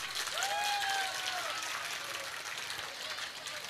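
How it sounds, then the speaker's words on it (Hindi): A large crowd at a Narendra Modi rally applauds steadily, a broad wash of clapping heard from some distance, with a voice calling out briefly over it. "इनके लिए तालियां होनी चाहिए"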